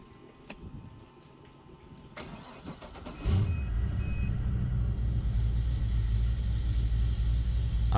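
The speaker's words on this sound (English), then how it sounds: "time to fire up the boat and make sure there's no leaks" A boat's inboard engine, just refitted with a new oil pressure sensor and run on a fake lake flushing system, is heard from a few seconds of quiet clicks through cranking into a loud, steady low rumble as it catches and keeps running.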